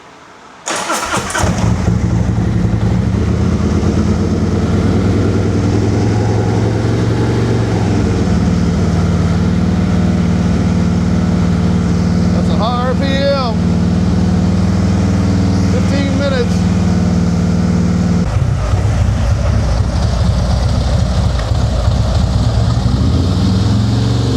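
A high-mileage Harley V-Twin motorcycle, resting with its tires on the ground, fires up with a loud burst and settles into a steady, rumbling idle that carries on to the end, with brief voices over the engine.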